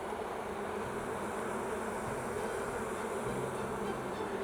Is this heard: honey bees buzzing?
yes